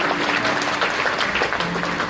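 An audience at a school's annual prize distribution applauds a prize-winning student, with loud, dense, continuous clapping throughout, a faint tone humming underneath.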